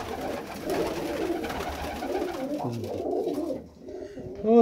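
Pigeons and young squabs cooing and scuffling close by, soft throaty coos and rustling over steady indoor background noise, with a brief brighter call at the end.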